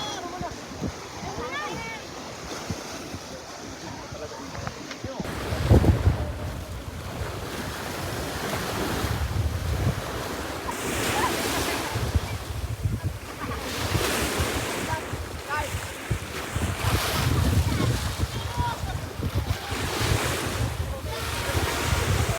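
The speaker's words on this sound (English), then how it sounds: "Ito ay dagat." Sea waves wash onto a free public beach in Albay, Philippines, a steady broad surf roar with heavy wind buffeting the microphone, while people talk intermittently over it.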